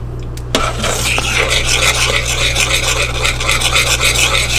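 A spoon stirring a cookie mixture in a bowl as it melts makes a steady, close scraping and rubbing sound that runs throughout, with a low constant hum underneath.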